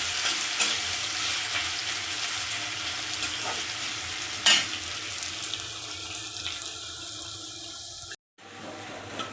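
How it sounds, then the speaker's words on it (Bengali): Potato pieces frying in a pan for sabudana khichdi, a steady loud sizzle with occasional stirring scrapes, cut short near the end by a brief dropout. "আলু কটা লাল লাল করে ভেজে নিলাম।"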